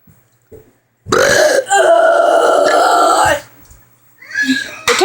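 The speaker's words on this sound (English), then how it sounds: "Final burp." A long, loud, dirty burp forced out close to the mic at a cat, rattling for over two seconds before trailing off, followed by a shorter throaty sound and a brief noise at the end.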